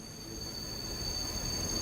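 A train pulls into a station, its rumbling rolling noise rising slightly as it goes, with a thin steady high-pitched wheel squeal over the top; fairly faint, no voices.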